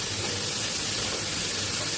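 Lightly boiled vegetables frying with onion and capsicum for a homemade Chinese dinner, a steady, even hiss of sizzling oil throughout with no talking.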